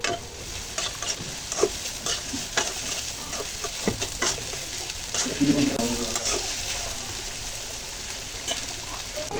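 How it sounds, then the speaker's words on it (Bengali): Onions with ginger and garlic sauté in a pan, a dense sizzle with repeated scraping strokes of a spatula stirring them, close and fairly loud; no voices. "পেঁয়াজগুলো হালকা কষে নেব এরপর আদা রসুন পেঁয়াজগুলি দিয়ে দিলাম"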